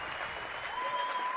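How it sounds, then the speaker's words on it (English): Spectators at a Wyoming boys high school basketball game, Star Valley against Rock Springs, applaud in a steady, moderately loud wash of clapping that carries on throughout. "They're clapping like maybe he's done."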